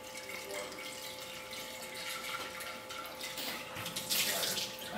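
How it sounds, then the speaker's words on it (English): Running water splashes and rinses steadily, a continuous hissing wash that grows a little louder toward the end. "And use this water to rinse the lower housing."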